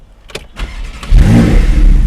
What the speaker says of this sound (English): there the car starts, and it is loud.